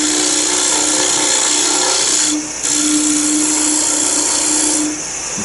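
A George Hatfield rod scraper cuts wood on a turning lathe, a loud continuous hissing scrape over a steady motor hum, briefly dropping away twice as the tool is lifted and reset.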